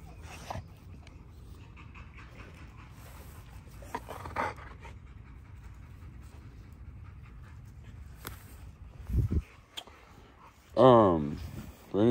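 A dog panting and whimpering close by, with quick soft breaths running through most of the stretch and a few sharper yips and whines near the end, and a person talking quietly in the background.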